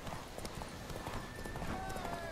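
Horse hooves clip-clop steadily in The Witcher 3 as a rider travels along a road, the rhythmic clatter running under continuous talk with game ambience.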